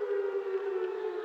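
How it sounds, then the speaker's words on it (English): A civil defense air raid siren wails in a steady, sustained tone, loud and unbroken throughout. "I can hear a siren"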